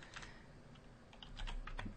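Keys clatter on a computer keyboard as a Linux shell command is typed out, a quick burst of close, fairly faint clicks with brief pauses, no voices.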